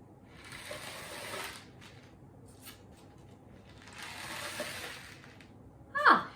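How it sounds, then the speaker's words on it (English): A homemade rain stick filled with pasta being tilted slowly: two long, soft rattling cascades of small pieces sliding inside, each swelling and fading, followed by a brief sharper clatter at the end. "you can hear the way the pasta moves back and forth"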